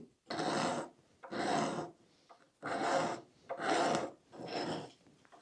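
Gooseneck scraper drawn along a wooden arrow shaft split from a log, making five rasping strokes of even length with short pauses between, close and fairly loud with no voices.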